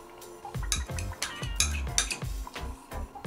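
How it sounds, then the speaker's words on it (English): Vegetables being tossed together in a bowl for a sauté give close, irregular clinks and scrapes of a utensil against the bowl, a quick uneven rhythm at low volume. "We have put all the vegetables in the bowl and we'll mix it up together"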